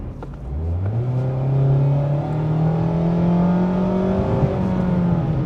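A 2021 Mazda Miata in sport mode accelerates with a steady, rising engine note that climbs in pitch and holds, a continuous nearby drone with no talking.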